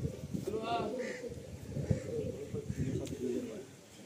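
Madrasi pigeons coo in a loft in Kolkata, soft repeated throaty calls blending into a steady background murmur, with people talking over them.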